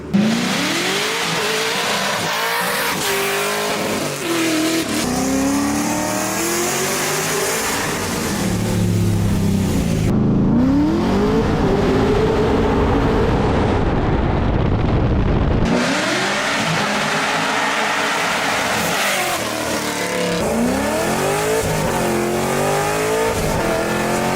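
An American muscle car making 600 wheel horsepower revs hard and close, its engine note rising and falling through repeated throttle blips, loud and sustained with no voices.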